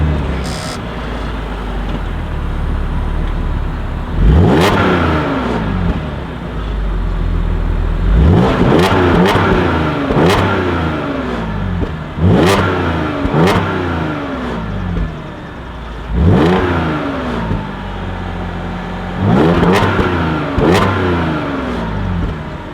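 A 2013 Audi S5 engine revs repeatedly, each sharp blip rising and falling, about six bursts over a steady idle rumble, loud and close.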